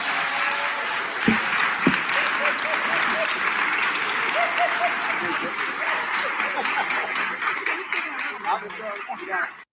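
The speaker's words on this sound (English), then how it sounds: "Round of applause, please." A crowd applauds steadily and loudly for several seconds, dense clapping with scattered cheers, fading at the end.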